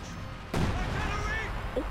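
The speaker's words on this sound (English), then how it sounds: "Barrage away." Soviet artillery barrage in the Company of Heroes 2 strategy game: a sudden heavy boom kicks in partway through and rumbles on in a dense roll of blasts, while a commentator talks over it.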